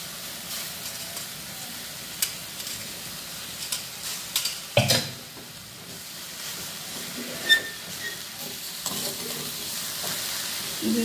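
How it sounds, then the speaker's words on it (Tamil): Steamed banana flower stir-fried with dal in a kadai for a South Indian usli: soft frying sizzle with irregular spatula scrapes and occasional sharper knocks, close and fairly quiet, no voices. "இப்போ ஆவியில் வேக வச்ச இந்த வாழைப்பூவை அதையும் அதோட சேர்த்துவாங்க."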